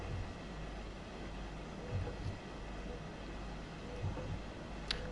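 A long freight train rolls slowly through a siding in Train Sim World 2 on the Bavarian route, a steady low rumble with faint periodic wheel thumps and a brief high squeal near the end, no voices.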